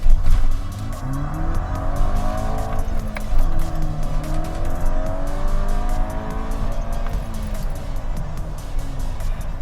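A VW MK6 GTI launching hard with wheel spin, its engine roaring loud and close as the revs climb and tires squeal steadily throughout.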